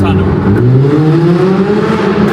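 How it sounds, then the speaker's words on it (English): A loud car engine revs hard and drones continuously, its pitch rising steadily as it heads into a tunnel, close and filling the space throughout. "Anyone who has a nice loud car knows the feeling of going through a"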